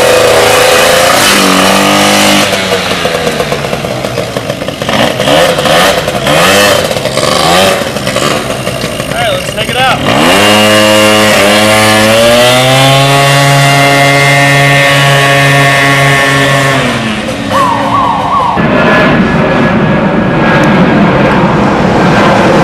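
A Daelim S-Five motorcycle engine revs loudly and shifts through gears on a road test, pitch climbing and dropping repeatedly as it accelerates, with no talking.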